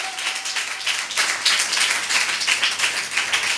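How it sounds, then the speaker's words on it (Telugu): A congregation at a Sunday church service claps loudly, a sustained burst of crowd applause with rapid, overlapping hand claps. "గట్టిగా చప్పట్లు కొట్టి ప్రభు నామాన్ని మహిమపరచండి"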